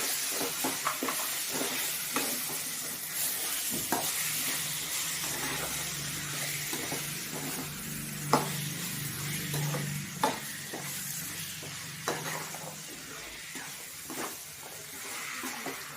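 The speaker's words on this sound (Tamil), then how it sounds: "பட்டாணி, ரெண்டுத்தையும் சேர்த்து நல்லா கலந்து வைக்கணும்" Potatoes and green peas fry in hot oil with a continuous close sizzle and hiss. A spoon stirs through them with scraping clicks and knocks against the pan at irregular intervals.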